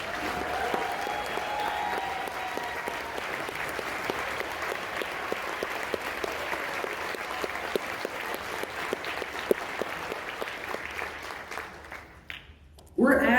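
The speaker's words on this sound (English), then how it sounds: "Please give them a round of applause." Sustained crowd clapping at a county political gala, honoring precinct chairs and cluster leaders, continuing evenly for about eleven seconds before tapering off, with a few scattered claps at the end and a voice resuming.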